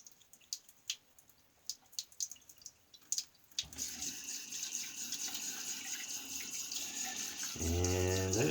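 A safety razor, a Wolfman prototype WR3 with titanium handle, is tapped several times in a tub, then rinsed under steady running water that swells into a loud, continuous splashing rush, close by with no talking.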